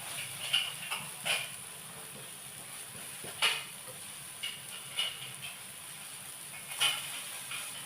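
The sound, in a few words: banana pancake sizzling while frying in a pan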